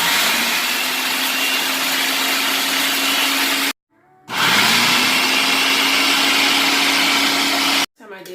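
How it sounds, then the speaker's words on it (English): A food processor whirs loudly and steadily as it crushes Flaming Hot Cheetos, running in two long bursts with a brief silent pause between them. "So you actually need a food processor."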